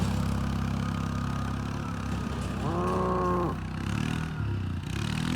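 Heifers mooing in a farm pen: one long, drawn-out moo rises clearly mid-clip over a steady low engine-like idle hum, with fainter lowing and shuffling around it.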